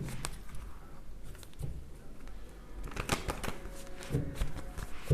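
Tarot cards shuffled by hand at close range, a continuous soft riffling patter with brief louder flurries, quiet, no voices.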